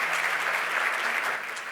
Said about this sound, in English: One more round of applause for him, please.